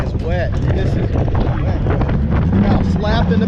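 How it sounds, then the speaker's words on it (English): Steady wind buffets the microphone outdoors at a drag bike racing event in Sonoma, a loud low rumble throughout, with someone talking over it. "I apologize for the wind, but it's just windy in Sonoma."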